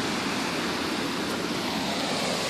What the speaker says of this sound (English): I'm down here at the Minnehaha waterfalls with Gargoyle's Joker.